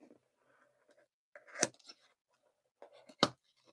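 Tape on a package being sliced open in two short, sharp cuts, close and crisp, separated by quiet rustling with pauses between.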